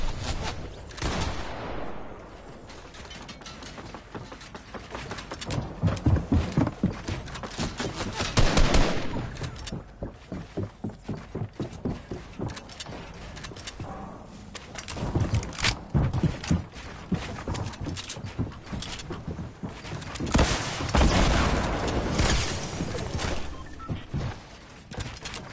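Rapid automatic gunfire in the Fortnite video game, bursts of sharp repeated shots rattling in quick trains, pausing and resuming in waves, with loud clustered volleys at several points.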